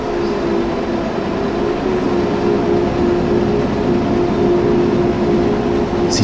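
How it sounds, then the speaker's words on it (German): A train in Train Sim World 2020 runs along the Wuppertal–Hagen line between walls, a loud, continuous rolling rumble with a steady whine throughout and no speech. "Ist zwar ein bisschen laut draußen, aber das gehört dazu. Das ist Eisenbahnfahren."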